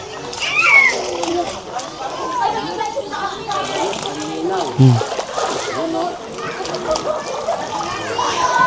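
Water splashes in a resort kiddie pool filled with fresh, unchlorinated water, with children playing and voices talking throughout. The splashing is steady and moderately close.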